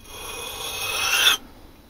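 A steel blade scrapes along a budget white sharpening stone in one continuous rasping stroke, growing slightly louder before stopping sharply, close up and alone.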